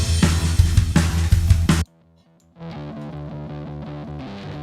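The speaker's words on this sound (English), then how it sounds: "I'm gonna blend a little bit of the distortion track in." Heavily distorted, crunchy music from a distortion track blended into a song mix plays loud, cuts to near silence for a moment, then returns as a cleaner, quieter melodic passage.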